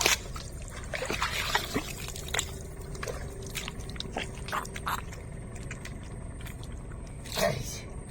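Freshly caught fish and crabs are rinsed with river water, with soft splashing, trickling and wet squishing sounds, close by and fairly quiet, as a person talks intermittently.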